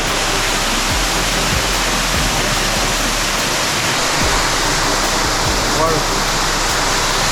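Loud, steady rush of stream water on a hike in Malibu, California, filling the whole clip, constant and close, with occasional low thumps.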